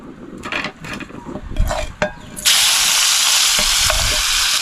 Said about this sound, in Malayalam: ഇനി നമുക്ക് കാച്ചാൻ പോണു, കൂട്ടാൻ കാച്ചാൻ പോണു.